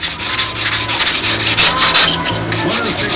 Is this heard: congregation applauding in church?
no